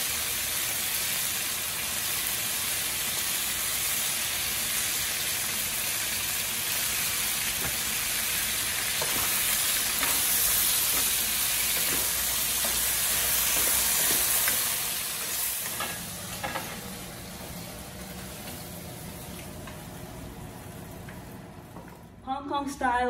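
Lobster stir-frying in a hot wok with green scallions, ginger and a hoisin and soy sauce mix, Hong Kong style, giving a steady loud sizzle with stirring scrapes that later eases off.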